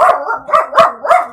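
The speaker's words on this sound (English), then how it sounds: "That is my dog barking." A pet dog barking close by, four loud, evenly spaced barks in quick succession.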